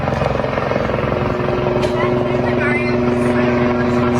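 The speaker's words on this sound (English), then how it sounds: "Here is a little bit of some of the last footage of Kobe's helicopter" Rotor drone of a helicopter flying in poor weather, the helicopter later involved in Kobe Bryant's crash, a loud steady chop with a sustained engine tone running throughout, with voices faintly under it.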